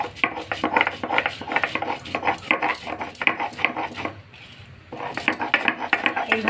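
Gandal leaves being ground on a grinding stone, a fast rhythmic series of close scraping, knocking strokes that pause briefly and then resume at the same pace.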